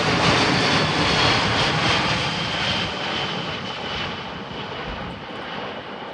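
Boeing C-17A Globemaster III transport aircraft flying past at an air show at Dalton Barracks, Abingdon, a loud, steady jet roar that stays strong throughout and eases slightly as it passes.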